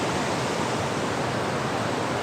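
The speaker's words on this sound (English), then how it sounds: "This waterfall is really good." Continuous loud roar of a large waterfall, a constant hiss-like rush of water filling the scene evenly, with no talking or other sounds.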